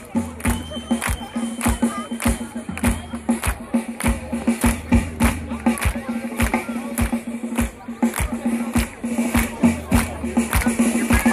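Crowd clapping in steady rhythm at a Black Sea highland festival held in Germany, sharp regular claps about two per second, loud and close, over a low droning hum.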